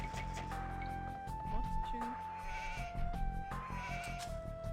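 Sheep bleat in a real-time strategy game while playing as the Huns in the Dark Age: a few short, nasal game-animal calls over sustained tonal background music, with someone talking over them.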